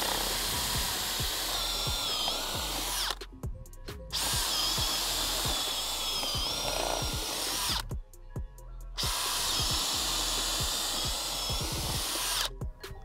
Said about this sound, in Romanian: Haideți să vedem dacă poate să ducă bormașina mea burghiul de 20 de mm în diametru.